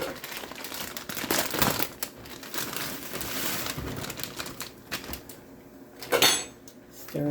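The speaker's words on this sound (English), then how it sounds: "We're going to add our vegetables. A whole bag of vegetables." A whole bag of vegetables tumbles into a soup pot, making a dense crinkling, rattling clatter that swells and fades over several seconds, with a louder burst of pieces landing near the end.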